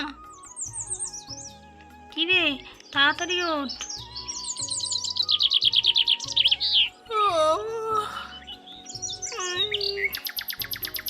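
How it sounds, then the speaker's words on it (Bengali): Cartoon morning birdsong of bright chirps, warbling whistles and rapid trills rises repeatedly, close and clear, while a voice speaks briefly over part of it. "তুই কি পাখির আওয়াজ শুনতে পাচ্ছিস না"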